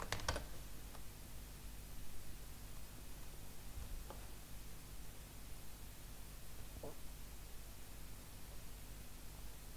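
A few faint, isolated key taps on a computer keyboard, spaced seconds apart, sit under a steady quiet hiss in a still room.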